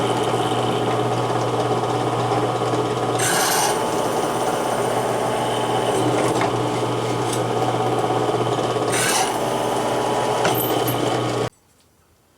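A drill press drilling out rivets runs with a steady loud motor hum and grinding, broken by two brief harsher bursts as the bit bites, then cuts off abruptly near the end.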